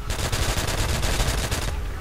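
Rapid, evenly spaced gunfire from a carbine in Call of Duty: World at War, a loud burst of quick repeating shots lasting about two seconds before cutting off.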